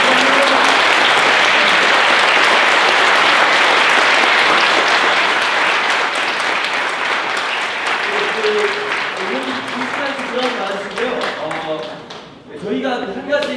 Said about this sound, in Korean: 지금까지 이렇게 강의해주신 요차의 뜨거운 박수 부탁드립니다